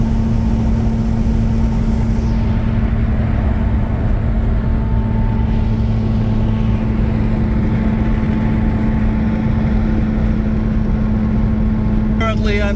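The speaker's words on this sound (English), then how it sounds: "you have a howling wheel bearing noise coming from the back and wind noise like this" Steady low droning hum and broadband wind rush inside a 1994 Ford Escort cabriolet cruising on the road, with a constant tone consistent with a howling rear wheel bearing, loud and continuous throughout.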